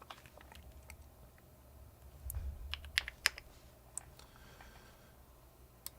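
Keystrokes on a Bubble 75 computer keyboard click in an irregular run, mostly soft and close, with several sharper, louder clacks partway through and a faint low rumble beneath.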